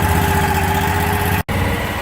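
The engine of a T60 hydroseeder runs at a steady idle, a loud, close, even mechanical drone with continuous vibration and a brief cutout near the middle.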